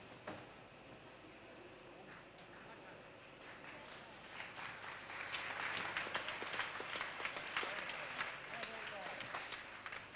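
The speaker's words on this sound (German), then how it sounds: "Beifall für den Stuntman." Applause for a stuntman on the film set of The NeverEnding Story, faint at first under a narrating voice and then swelling into scattered, moderately loud clapping from a small crew.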